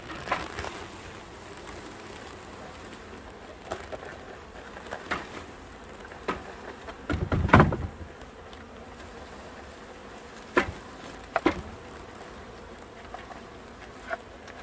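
Honeybees swarming around a hive being installed, a steady close buzz with scattered louder wingbeats as insects fly past, broken by occasional thumps and knocks from handling the hive.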